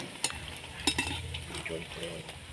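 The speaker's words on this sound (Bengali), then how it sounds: "আর এই যে এইভাবে লাল লাল করে ভেজে নেব সবগুলো।" Bread slices frying in oil, a continuous soft sizzle with a few sharp utensil clinks and scrapes against the pan.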